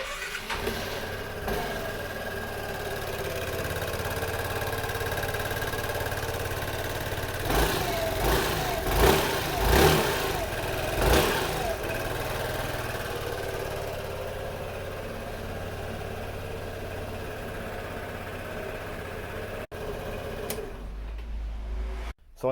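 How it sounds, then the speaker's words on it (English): A rebuilt Yamaha Xmax 125 scooter engine runs at a steady idle with a fast mechanical patter, a few short revs in the middle, then a click and a low thump as it stops. "I'm gonna start the engine right now to make sure that it works."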